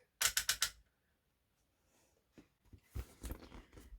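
A Cowboy CB6900 sewing machine's presser foot is lowered with its adjustable foot height setting, giving a quick burst of four sharp mechanical clicks, then quieter scattered clunks and knocks a few seconds later.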